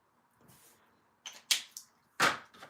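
A coloured pencil scrapes across paper as part of a card drawing is filled in, in a few short, quiet bursts of scratchy strokes separated by pauses, with no talking.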